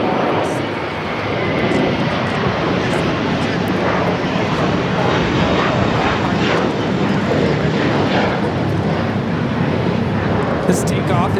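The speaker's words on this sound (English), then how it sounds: "This takeoff is American Airlines 274, taking off to JFK on the A321." An American Airlines A321 roars down the runway on takeoff at LAX, a loud, sustained broadband engine rumble that holds steady for the whole stretch.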